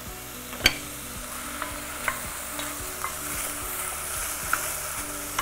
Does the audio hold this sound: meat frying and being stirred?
yes